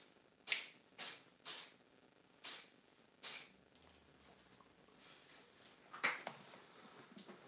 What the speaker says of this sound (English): So I take my spray fix, I put myself on the side so that I don't hit.